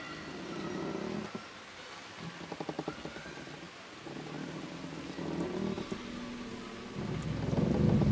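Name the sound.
heavy rain and thunder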